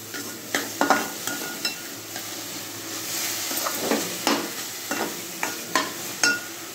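Grated papaya with sugar stirred in a pan for papaya bread halwa, a soft low sizzle under a series of light, evenly spaced scraping strokes, fairly quiet and close, no voices.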